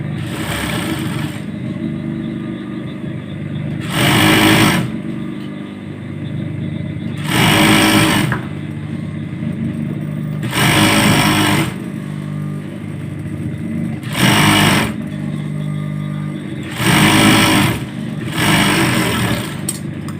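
A sewing machine stitches baby shorts in short bursts, five or six loud runs of rapid whirring separated by quieter pauses, close to the microphone.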